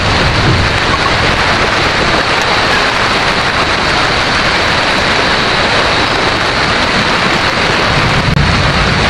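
Heavy rain pours down steadily and loudly, a dense unbroken hiss of water across the whole stretch with no voices.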